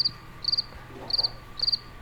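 A cricket chirps in short, evenly spaced trills, four bursts in quick succession, clear against faint background hiss.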